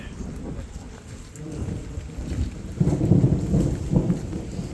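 Rolling thunder rumbles through a steady rainstorm near a creek, a low, continuous roar that swells louder in the second half with no voices.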